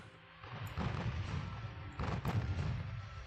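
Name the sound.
torpedoes hitting warships in video game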